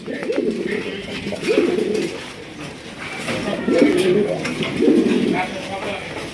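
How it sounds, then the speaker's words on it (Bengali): A pair of Bombay pigeons at a seller's stall coo in low, rolling bouts that repeat every second or so, loud and close throughout. "একদম গোলাপ জুটির বোম্বাই কবুতর"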